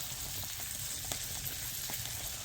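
A steak just pulled from an outdoor fire sizzles steadily, a dense continuous frying hiss with faint crackles, close and even throughout with no talking.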